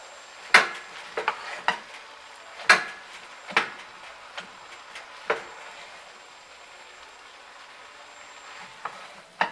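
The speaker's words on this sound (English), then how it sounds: "It's cooking very well. So we just turning." Cabbage cooking in a pot is stirred and turned over with a utensil: a series of sharp scraping clanks against the pot, spaced irregularly, over a faint background sizzle.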